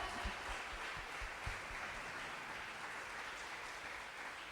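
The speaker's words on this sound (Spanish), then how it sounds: "¿Cuántos dan un aplauso a eso?" A church congregation applauds during a pastor's sermon: a faint, steady wash of clapping held for several seconds, with a few soft low thumps near the start.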